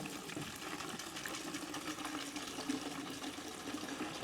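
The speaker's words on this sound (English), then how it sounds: "you can see as we put the fuel in" Fuel runs from an automatic dispenser at a Tesco forecourt pump into a 5-litre container, a steady hissing, gurgling pour heard close and fairly quiet, with no talk over it.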